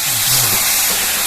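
Burnt coconut with its water is added to fully melted sugar in a pan, producing a loud, close, steady rushing hiss of steam and sizzle.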